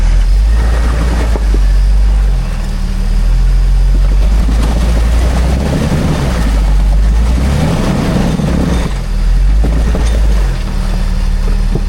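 Off-road vehicle on 31-inch tires crawling over rocks, a loud, close, steady engine drone with low rumbling and shifting revs as it works along, no talking.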